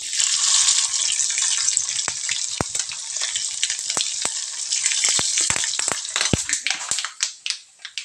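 Mustard seeds and fenugreek fry in hot oil in a home kitchen, a steady bright sizzle scattered with sharp seed pops and crackles that thin out and grow sparse toward the end.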